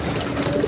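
Pigeons feeding on scattered grain outdoors, with a brief soft coo rising over a steady bed of busy rustling and pecking, close by and continuous for under a second.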